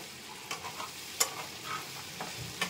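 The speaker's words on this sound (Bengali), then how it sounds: "আলুটা ভাজা ভাজা হয়ে গেছে" Potatoes stirred and fried in a pan, a soft steady sizzle broken by several scraping clinks of a spatula against the pan, close and fairly quiet with no talking.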